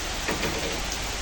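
Rain shower pours down outdoors during a storm with strong winds and dark clouds, a steady broadband hiss of falling water with gusty surges, loud and continuous with no voices.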